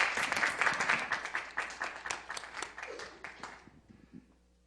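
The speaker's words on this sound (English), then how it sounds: "So I'd like to give them another round of applause." Audience at a small foundation gathering claps for young presenters, a burst of close applause that starts full and gradually dies away to a few scattered claps and quiet.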